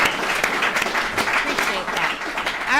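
Audience clapping for a speaker named Justin at a recovery services alumni meeting, a sustained round of applause with voices talking over it and a brief whistle-like tone near the end.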